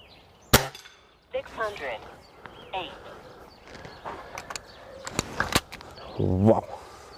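A Weihrauch HW35E .177 air rifle firing JSB Knockout slugs: one sharp, close crack near the start and a couple of later snaps, mixed with clicks, clanks and quiet background noise.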